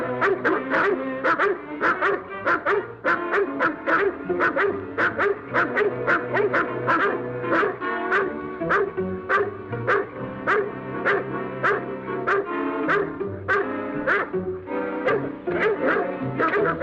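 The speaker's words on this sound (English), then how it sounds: "Hear those dogs?" Several dogs bark repeatedly in a rapid, continuous volley, loud and close, with yips mixed in and no speech over them.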